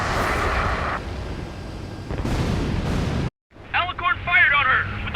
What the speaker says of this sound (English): Alicorn fired on her with the railguns